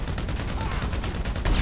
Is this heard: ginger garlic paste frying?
no